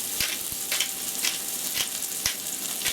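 Steak searing in a hot pan for steak au poivre, a steady hissing sizzle with faint periodic ticks and pops over three seconds.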